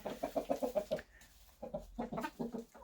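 Brown and white hens clucking close by in repeated bursts of short rhythmic notes, a pause, then another run of clucks.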